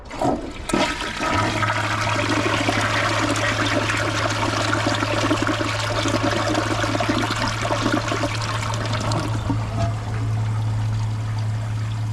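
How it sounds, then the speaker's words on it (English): A Kohler Highline Arc tall-tank toilet flushes continuously for a long stretch with the handle held down, a loud rushing and gurgling of water after a click of the handle, with a steady hum underneath. "Here's a flush with the handle held down."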